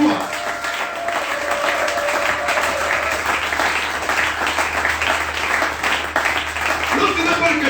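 A church congregation applauds and cheers in acclaim of King Jesus, with steady, dense clapping sustained throughout under a lively crowd roar.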